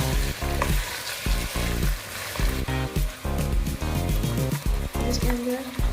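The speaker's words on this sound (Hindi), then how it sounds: "और चिकन को 5 मिनट्स के लिए फ्राई करेंगे।" Chicken fries in a pan with a loud, steady sizzle broken by repeated scraping and stirring strokes, throughout the clip without speech.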